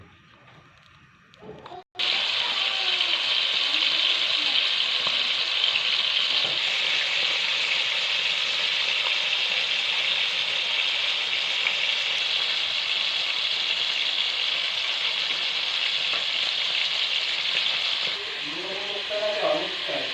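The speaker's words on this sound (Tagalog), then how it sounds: "iprito muna namin para sa ginataan" Tulingan fish frying in hot oil for ginataan, with a steady, loud sizzle that begins abruptly and keeps going, close by, and faint voices under it.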